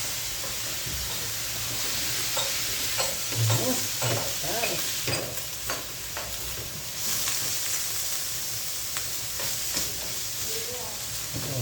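Bamboo shoot adobo sizzles steadily in a pan after soy sauce is added, with a constant hiss broken by scraping stirs and clinks, heard close up.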